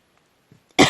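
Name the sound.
woman coughing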